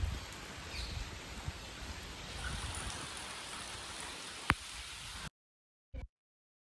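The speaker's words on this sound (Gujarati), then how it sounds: "વરસાદ ચાલુ થયો" Rain falls at a hilltop Mahadev temple during the monsoon, a soft, steady hiss of drops spread evenly and fairly faint, with one sharp knock near the end before the sound cuts out.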